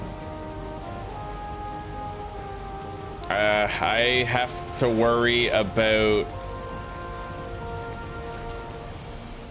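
In Valheim a steady hiss of rain runs throughout, and midway someone speaks for a few seconds over the continuous downpour before it carries on alone.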